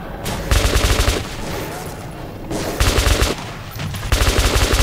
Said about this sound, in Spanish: Me encanta cómo suena la metralleta.